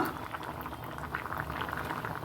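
An ash gourd curry with whipped buttermilk bubbles at a steady, vigorous boil in a pot, a close, continuous bubbling and simmering hiss with no voices.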